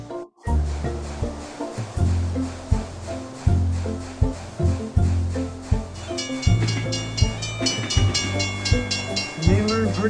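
Model train running on a track, driven from a hand lever controller, with rhythmic rail clicks and rumble rising and falling in repeating pulses, a brighter metallic ringing tone joining toward the end.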